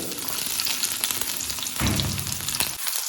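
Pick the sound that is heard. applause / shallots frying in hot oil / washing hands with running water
shallots frying in hot oil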